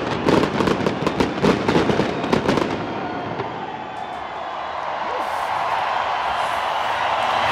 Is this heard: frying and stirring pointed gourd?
no